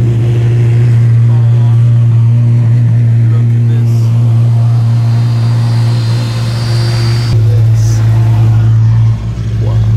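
A loud street-legal Apollo IE car engine drones and revs nearby, a heavy sustained roar with shifting pitch, joined by brief higher mechanical whines.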